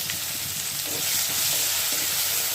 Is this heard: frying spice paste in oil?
yes